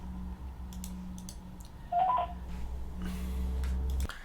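A telephone keypad sends a short run of dialing tones in quick succession, clear and alone in a quiet room with a low hum beneath.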